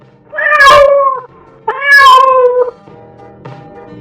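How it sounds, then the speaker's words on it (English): Cat meowing in a children's farm and domestic animal lesson, two loud, close, drawn-out meows followed by a fainter short mew, with no speech over them. "Exactly. Cat."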